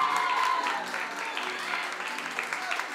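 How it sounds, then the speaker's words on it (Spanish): Audience at a school sixth-grade promotion party at Colegio La Merced applauds a student, a continuous, moderately loud patter of many hands with a faint high tone at the start and crowd murmur beneath. "El aplauso para Christopher."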